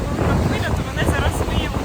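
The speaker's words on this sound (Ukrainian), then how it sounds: "Вітер тут дуже сильний." Strong wind on Tenerife buffets the microphone in a steady, loud roar with low rumbling gusts throughout.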